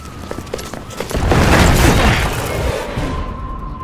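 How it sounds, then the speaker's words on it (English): Bombing explosions in the video game Resident Evil 6: a loud, sustained rumbling blast swells and roars for a couple of seconds, then tapers into a lingering low wash. "Copy that. Commencing with bombing."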